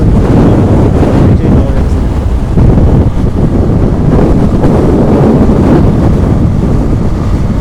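Strong wind roars continuously into the microphone during a rainstorm, a loud, steady buffeting rush with no breaks.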